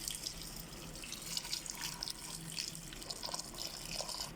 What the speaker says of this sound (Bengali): দিচ্ছি পানি।